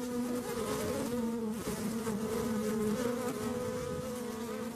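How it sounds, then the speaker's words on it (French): Worker honeybees in a disturbed hive, a dense continuous buzzing drone with a wavering tone, close and steady throughout with no voices. "Un son qu'on appelle le chant des abeilles ouvrières, qui est un signal d'une ruche perturbée."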